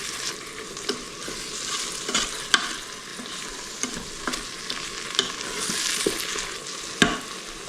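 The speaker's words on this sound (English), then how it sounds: "I'm going to let that come to the boil, which it already has." Napoli-style tomato sauce bubbling in a pan, a steady simmering sizzle broken by regular stirring scrapes and small pops, close and moderately quiet, no talking.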